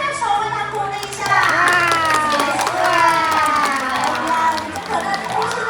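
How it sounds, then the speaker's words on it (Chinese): An audience at a sea lion show in Taiwan claps and cheers, with children's excited shouts and a steady wash of applause under a presenter talking over a loudspeaker. "你们拍拍手，为他鼓励一下"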